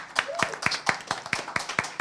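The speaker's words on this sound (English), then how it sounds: "Can we give a round of applause for our host?" Audience at a debate competition grand final applauding the host, a few hands clapping in a fairly regular rhythm of about eight claps, near and moderately loud with no voices.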